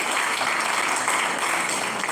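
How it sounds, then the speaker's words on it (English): Dense, steady audience applause at a town planners' chapter gathering, loud and continuous for a couple of seconds with no talk. "Let's give a round of applause for him."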